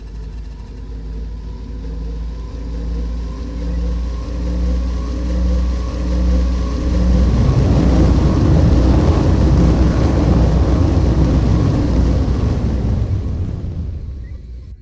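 Spacecraft launch thrust in the game Scavenger SV-4: a deep engine rumble with a droning hum that swells into a loud, roaring wash of noise, then cuts off abruptly at the end.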